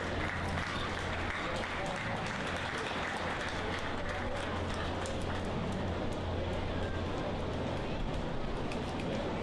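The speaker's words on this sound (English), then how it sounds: "Let's give your champion Gilt Drive a big round of applause." An audience at a county 4-H swine show applauds the champion gilt, a dense, sustained clapping that fills the whole stretch at steady loudness, with crowd murmur mixed in.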